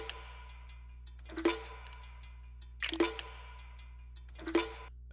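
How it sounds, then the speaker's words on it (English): A short ethnic drum loop of Cashmere style sits under a rising reverse crash, with three soft percussive hits spaced about one and a half seconds apart, each with a quick swelling lead-in and small ticking transients between them. "a reverse crash into this little Cashmere ethnic drum loop"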